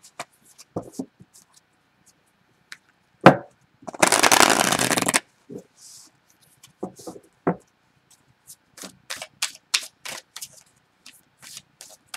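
Tarot cards being shuffled near the microphone: a single dense riffle burst lasting about a second, surrounded by scattered soft taps and handling clicks in an otherwise quiet room.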